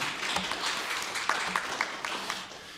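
Audience applause at a spring new student convocation, a broad steady wash of many hands clapping at moderate volume, continuous throughout with scattered sharper claps.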